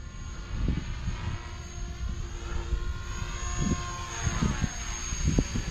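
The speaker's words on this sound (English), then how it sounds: "Look how fast that helicopter rolled." A 300X RC helicopter flies and rolls sharply, its rotor and motor giving a steady, fairly loud whine with rhythmic low pulsing that swells and surges during the manoeuvres, heard alone without talk.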